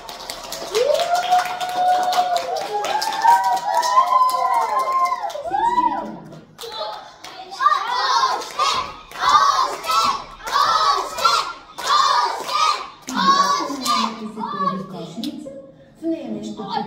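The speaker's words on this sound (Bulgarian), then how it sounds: "а публиката бурно аплодираше" An audience at a show under bright lights applauds loudly, with dense clapping mixed with shouts and cheers from a crowd. The noise is steady and full for the whole stretch, with no distinct speech.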